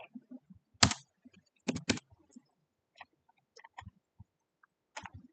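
Computer keyboard keys tapped in short separate clicks and small clusters while values are entered, close and fairly quiet with silence between strokes.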